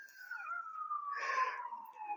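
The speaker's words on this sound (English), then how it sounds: "Stupid siren." An emergency vehicle siren outside wails as a steady, slowly falling tone, faint and distant, with a brief burst of broadband noise partway through.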